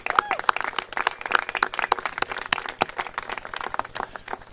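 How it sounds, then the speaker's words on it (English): Scattered clapping from a small audience, brisk and irregular, fairly close, with a murmur of voices under it. "Let's give them a round of applause."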